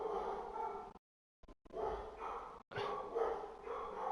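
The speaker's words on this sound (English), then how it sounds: "Sorry for the dogs." Dogs barking in a room, several loud, harsh barks in a burst, then a short silent gap and more barking that carries on, close and loud with no talk over it.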